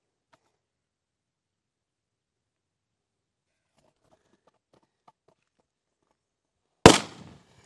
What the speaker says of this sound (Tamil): டயர் கப்ப கப்ப கப்ப கப்ப கப்பன்னு பொரியுது